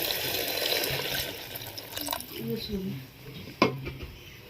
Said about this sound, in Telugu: ఈ కప్పు రైస్కి రెండు కప్పుల వాటర్ వేసేసుకోవాలి